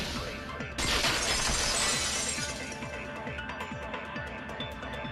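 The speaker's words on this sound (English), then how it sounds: "If it wasn't the window, then what broke to make that sound? A vase." A video game sound effect of a vase shattering bursts in loudly and sprays bright, scattering fragments that ring and tinkle for a couple of seconds before dying away into a faint tail.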